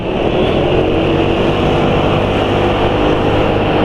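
A loud, steady engine drone running close by, constant and unbroken, with a rough low rumble and no voices.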